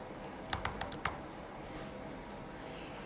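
Keys clack on a computer keyboard in a short burst of about half a dozen crisp taps, then fall quiet against a faint room hiss.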